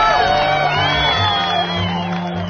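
A theatre audience cheers and whoops at the close of a stage show, a dense, loud crowd roar with shouts that holds steady for the whole stretch.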